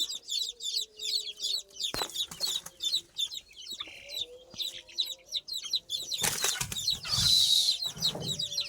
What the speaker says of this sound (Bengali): এই যে দেখতে পাচ্ছেন আমাদের এগুলো বড় টাইপের, এগুলো দেশি মুরগির বাচ্চাগুলো